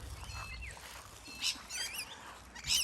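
Small birds chirp near bird feed scattered in a vegetable garden, with a few thin high calls and twitters over quiet outdoor background.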